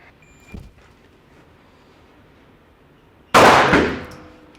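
A single pistol shot fired after a fast draw from a holster at a shooting target, one sharp loud crack that decays over about a second, preceded by a faint earlier click and a quiet pause.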